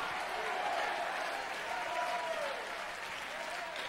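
A live audience claps steadily through a motivational talk, a sustained wash of applause that sounds fairly distant, with no clear voices over it.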